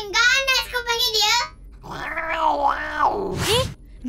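A cartoon cat voiced in Malay gives drawn-out, wavering meows and groaning yowls, with a short pause before a final rising cry, close and fairly quiet.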